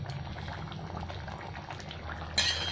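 Tomato fish curry bubbling in a pot, Bengali style, a steady close simmering burble running throughout with a brief brighter hiss near the end.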